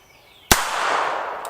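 A single sharp, loud crack from a Heritage Rough Rider .22 LR revolver firing a CCI Stinger round, followed by a short decaying echo outdoors.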